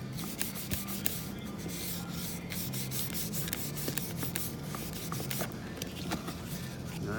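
Steady close rubbing and smoothing of wrapped covering material over a clamshell box tray, a continuous soft scuffing texture with light taps, no talking.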